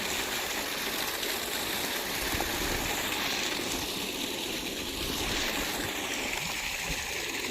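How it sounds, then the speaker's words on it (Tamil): Water gushes steadily from the outlet of a Texmo AC solar-powered vertical stage pump, a broad continuous rushing and splashing stream heard close up and alone throughout. "தண்ணி நல்லா வருதுங்க, பரவாயில்ல."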